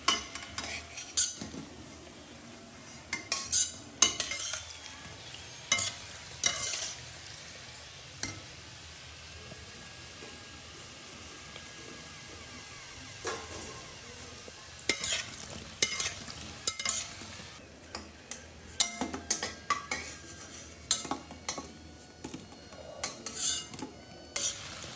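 Fuchka puris fry in oil under a soft, steady sizzle, broken by repeated sharp clinks and scrapes of a utensil stirring and lifting them from the pan.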